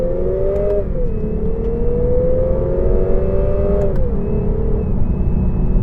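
A 2018 Lexus RC 300 F-Sport accelerates hard in manual mode, its engine note climbing steadily through the revs, then dropping in pitch at each automatic upshift, loud and close with a constant whir beneath.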